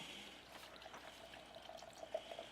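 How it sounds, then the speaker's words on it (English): Bourbon pours into a cocktail glass as a soft, quiet trickle of liquid lasting a couple of seconds, with faint background noise and no talk. "Then we're going to add our bourbon."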